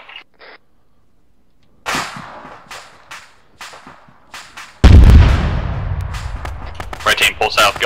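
Incoming artillery in the ArmA 3 video game: sharp cracking shots are followed by a heavy, booming explosion with a long rumbling tail, while players shout over game radio.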